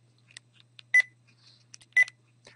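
Two short, loud telephone keypad tones about one second apart mark digits being dialed on a phone in Mexico, with fainter electronic chirps and a low steady hum between them and no speech.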